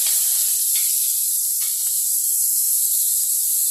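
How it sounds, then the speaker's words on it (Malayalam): Mustard seeds and fenugreek sauté in a hot pan for a fish curry, giving a steady, bright hiss with a few faint sharp pops scattered across it, close and continuous with no talking. "ആദ്യം ഞാൻ കടുകും ഉലുവായും കൂടാണ് ഇട്ട് വഴറ്റുന്നത്"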